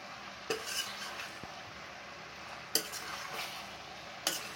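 Mutton with salt being sautéed in a pan, a soft background sizzle broken by a few distinct metal spoon scrapes and clinks against the pan, quiet and close with no talking.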